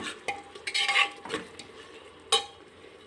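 A spoon stirs garam masala into a cauliflower masala curry in a pan, making scattered scraping clinks against the metal with soft sizzling between them, close and fairly quiet.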